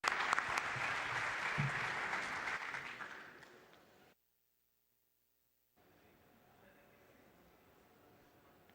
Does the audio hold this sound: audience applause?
yes